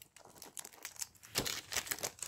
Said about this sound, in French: Alors, encore du scotch.